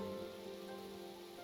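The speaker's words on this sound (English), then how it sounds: "Oh my gosh, you get to see the rain. And the sounds as well." Steady rain pattering on surfaces in the video game Minecraft, a soft continuous hiss with no voices, constant in level throughout.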